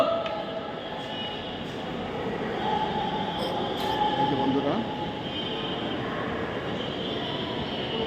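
A train rumbles steadily nearby at Khulna railway station, with rolling wheel noise and a faint squeal, while someone speaks briefly over the din.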